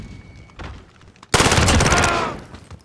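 A loud burst of rapid automatic gunfire from a video game, erupting sharply after some quieter shots and background noise, lasting about a second.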